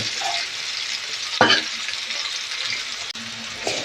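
Onions frying in a pan, a continuous soft sizzle with a sharp stirring scrape partway through and a couple of brief clanks.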